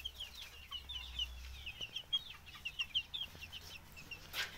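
Desi chickens on a village poultry farm, clucking in quick repeated bursts while running about, several birds fairly close, with no talk over them.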